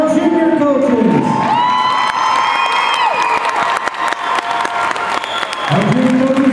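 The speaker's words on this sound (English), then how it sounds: "Applause for all of our junior coaches." A gym crowd applauds and cheers for the junior coaches, mixing whoops and children's shouts over steady clapping, with a rising electronic tone sweeping through in the middle.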